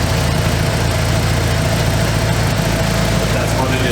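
A Mitsubishi Eclipse GSX engine runs at a steady idle close by, with a continuous low rumble and vibration and no voices in the snowy cold before a mountain drive.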